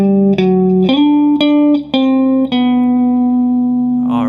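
A distorted electric guitar plays the second phrase of a practice riff: several picked notes, one sliding up, then a long sustained tone ringing close and loud, with a brief voice at the very end.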